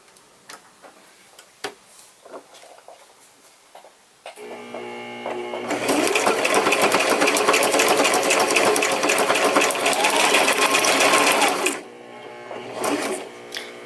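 A sewing machine stitches layered paper craft embellishments with a longer stitch, starting after a few quiet taps and running as a steady, fast mechanical whir for about six seconds before stopping.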